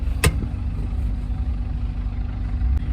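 A car idles in park at traffic lights, a steady low engine rumble running evenly throughout with a brief sharp click near the start.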